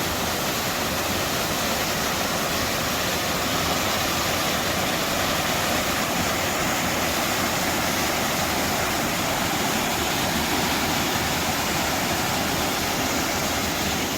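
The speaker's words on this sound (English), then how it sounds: "There's water flowing way up there." A mountain waterfall on the Appalachian Trail pours in a continuous broadband rush, steady and unbroken, with no voices over it.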